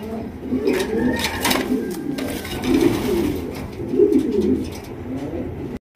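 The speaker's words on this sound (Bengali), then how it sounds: "দর্শক এখানে রয়েছে একজোড়া শোকিং কবুতর, অ্যান্ডালুসিয়ান শোকিং।" A pair of large Andalusian pigeons coo steadily and close by, their low throaty rolling calls repeating without pause, with a brief faint flutter partway through.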